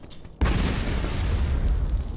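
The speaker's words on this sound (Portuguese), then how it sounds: "Ó, tá vendo os tiros? O tiro tá pegando, viu?" Remington 12 shotgun blasts in a World War 2 battle video game: after a brief quiet moment, a loud boom opens a dense, continuous stretch of heavy gunfire and explosions.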